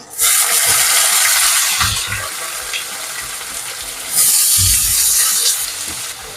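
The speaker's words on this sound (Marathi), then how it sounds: "कांदे टाकून मिक्स करून घ्यायचे" Sliced onions hit a hot pan with cumin and green chilies and are stirred, giving a loud, steady sizzle that dips and then surges again with a second burst of frying.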